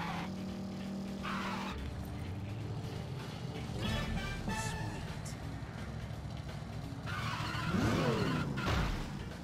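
A motorcycle in the video game No More Heroes rides through an industrial area, its engine droning and shifting pitch, with a skidding, sweeping surge of revs toward the end.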